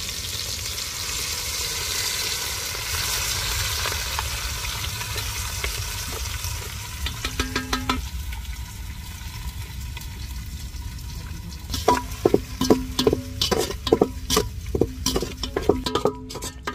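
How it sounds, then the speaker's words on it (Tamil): Spice powder frying in ghee in a pot for Dindigul biryani, a steady loud sizzle with a spoon stirring and scraping in quick metallic bursts toward the end. "நாங்கள் நெய்யில் அந்த பொடியை சேர்த்ததுக்கப்புறம் அதை கிண்டுறோம்"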